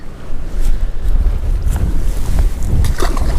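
Strong wind buffets the microphone on a lake during bass fishing, a steady low roar with gusty surges and no talking.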